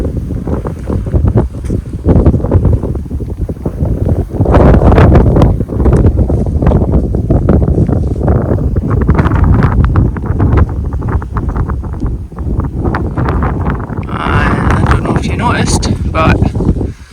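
Strong crosswind gusts in the Scottish Highlands buffet the microphone in loud, roaring bursts that swell and ease, with a person talking underneath the blustery noise.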